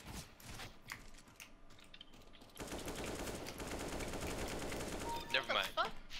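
An Uzi submachine gun firing in the video game CS:GO, a fast rattling burst of rapid shots that grows louder and steadier midway, with faint talk and keyboard clatter in the background.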